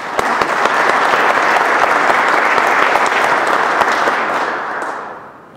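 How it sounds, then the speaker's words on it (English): Audience at a drone industry symposium bursts into steady applause for an incoming speaker, dense clapping sustained for several seconds before tapering off at the end. "let's give Rob a big hand."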